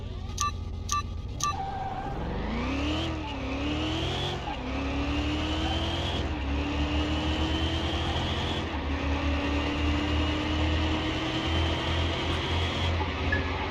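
In a drag run in Car Mechanic Simulator 2021, a car launches off the line after a few quick beeps, its engine revving up through several gear changes, each shift dropping the pitch before it climbs again, loud and continuous with no talk.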